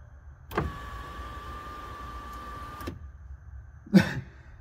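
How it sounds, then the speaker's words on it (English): A car's electric sunroof motor whirs steadily for about two seconds as the moonroof opens, starting and stopping with soft clunks and followed by a short thump, in a car that has just been fully rewired. "let's make sure that the moonroof works, or sunroof"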